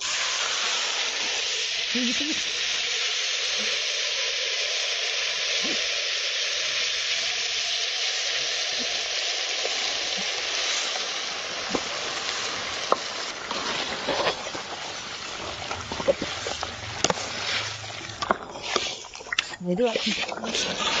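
Ground ginger hits hot oil for a home-style garlic pickle, a loud, steady sizzling hiss that runs on and on, later broken by the scrape of stirring.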